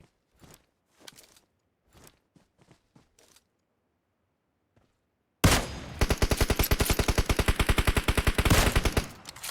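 Sustained automatic gunfire from PUBG Mobile, a long rapid burst of loud, evenly spaced shots that cuts in abruptly after quieter scattered clicks and brief sounds.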